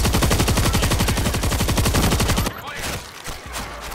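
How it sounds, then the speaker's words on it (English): Rapid automatic gunfire in the World War Z Aftermath video game rattles loudly and continuously for about two and a half seconds, then breaks off into scattered noise and ambient clatter. "You're shooting across this port."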